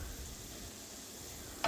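Coriander leaves are tossed into a sizzling pan and stirred, a steady close hiss of frying with soft scraping and a brief clatter at the end.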